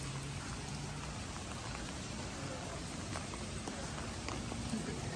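Steady rain falling at Enoshima, a constant outdoor hiss of drops with faint ambient sounds beneath.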